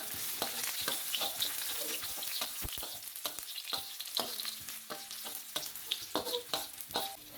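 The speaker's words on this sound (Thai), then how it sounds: "ตั้งกระทะอีกหนึ่งทีครับแล้วก็ใส่น้ำมันลงไปเล็กน้อย ใส่กระเทียมสับลงไปครับ ผัดให้เหลืองหอมเลยนะครับ" Minced garlic stir-frying in a little oil in a wok, a steady close sizzle broken by scraping stirs and clacks of the spatula against the pan, with no talking.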